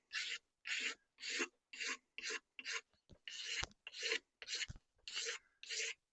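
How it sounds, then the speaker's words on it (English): A new scraper blade shaves grime and old finish off a W. Gilpin hatchet in about a dozen steady, evenly spaced rasping strokes, close and clear with short silences between them. "Just shaves off the grime and any old finish that was there."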